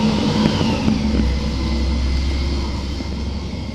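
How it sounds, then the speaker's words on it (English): A garbage truck drives past, its heavy engine producing a loud, steady low roar and drone that slowly eases off toward the end, with no voices. "The garbage truck coming through."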